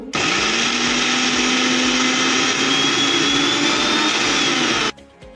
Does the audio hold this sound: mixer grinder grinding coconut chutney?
yes